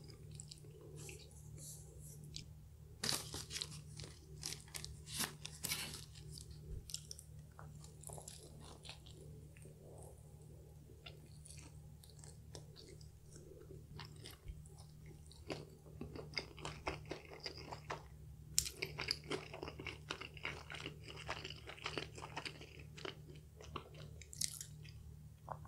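Crunchy bites and chewing of KFC Zinger tortilla wraps and hot, crispy fried chicken, heard close up as repeated crackling crunches and wet mastication over a quiet background, with no talking.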